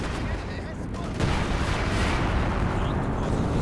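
A major artillery barrage in Company of Heroes 2 rumbles on as a dense, continuous roar of blasts and gunfire, swelling louder partway through and holding steady.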